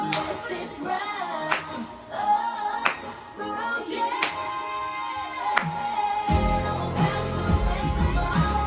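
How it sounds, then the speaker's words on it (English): Sharp, evenly spaced claps within a pop song, punctuating the music at a steady pulse before a heavier bass-driven section enters. "I like the claps."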